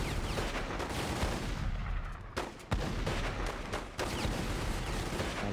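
Sniper and other gunfire in The Godfather 2 video game, a dense rapid series of loud cracks and booms over continuous battle noise, with a couple of sharper isolated shots standing out.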